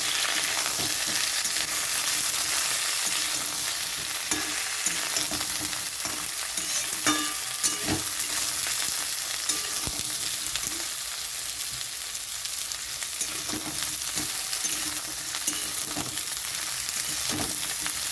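Chopped vegetables frying and sizzling in a pan for a sour-yogurt soup, a steady loud hiss with scattered crackles and stirring scrapes throughout.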